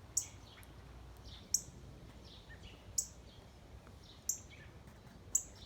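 Small birds chirp near a backyard feeder in a quiet shaded yard, with sharp high tweets at a regular pace of about one every 1.4 seconds over a faint low hum.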